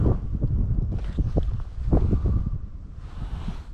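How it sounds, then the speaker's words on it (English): Wind gusting over open water on a cold winter bass-fishing outing, loud rumbling buffeting across the microphone, steady and close, with faint water movement underneath. "Wind is picking up. Went from no wind to straight 10-mile-an-hour winds."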